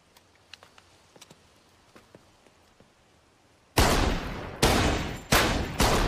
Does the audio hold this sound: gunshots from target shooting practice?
yes